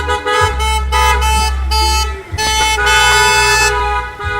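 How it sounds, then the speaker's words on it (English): Passing rally drivers honk their car horns in loud, overlapping toots and long blasts, with a deep truck-like horn among them and vehicle rumble underneath. "We have a lot of honking ralliers today"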